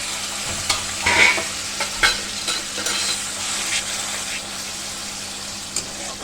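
Reserved spice-paste water poured into sizzling masala for doi katla, a busy crackling fry with splashing and stirring bursts, close and moderately loud throughout.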